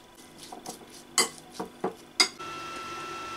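Irregular clinks and knocks of a utensil against a bowl while stirring eggplants with salt, oil and vinegar, a handful of sharp taps spaced unevenly, close by, with no talking.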